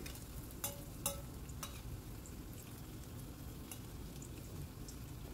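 Raw banana pieces fry in oil, making a low, steady sizzle with a few sharp crackles and pops near the start, quiet and unbroken throughout.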